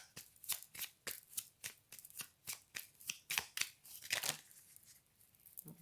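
A deck of playing cards is handled and shuffled during a card reading: a quick, close run of crisp riffling snaps, fairly quiet, that stops before a last soft flick.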